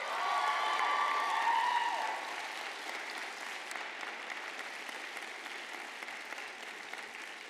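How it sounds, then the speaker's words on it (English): Graduates at a spring university commencement ceremony give a round of applause, starting full with some cheering, then easing after a couple of seconds into steadier, softer clapping that continues. "Now, graduates, why don't you give your family and friends a round of applause for their support and encouragement for your years here."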